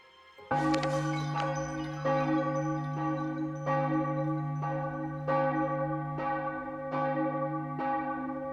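Church bells in the video game The Case of the Golden Idol ring out in a slow, steady peal, each heavy strike resonating and overlapping the last, clear and loud with nothing else audible.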